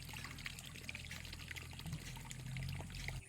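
Water pours and trickles steadily onto the ground, irrigating a village plot of greens, faint and continuous over a low background hum, with no talking.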